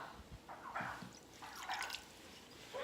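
Water poured for a sesame coleslaw dressing, soft intermittent splashing and trickling into a container in a kitchen, quiet and close, in short bursts.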